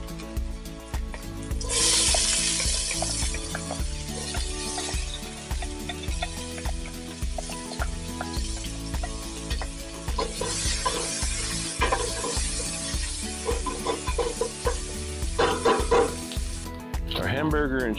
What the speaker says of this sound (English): So let me get sauteing these onions